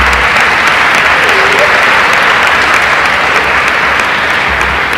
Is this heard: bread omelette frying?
no